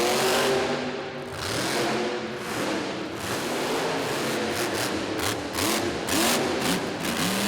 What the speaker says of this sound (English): wow factor by means of just sheer noise and sensory overload as this truck is on the track.